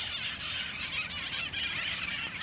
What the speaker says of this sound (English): There's lots of birds above us, so if you hear them making noise, there they go